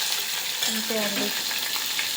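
Tomato rasam poured into a hot tempering on the stove, a dense steady sizzle and crackle filling the pan, with a brief clink of a utensil partway through.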